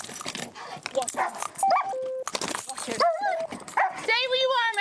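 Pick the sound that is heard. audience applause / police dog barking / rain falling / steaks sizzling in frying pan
police dog barking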